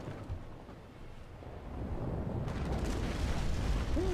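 Heavy cannon fire from a Navy Brig in a naval video game battle, a deep rumbling boom that swells and keeps rolling for several seconds, with no one talking.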